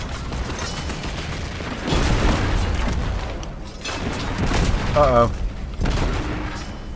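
An enemy tank fires in the game Destiny 2, heavy booming blasts and rumbling explosions rolling through a noisy battle while a person speaks briefly.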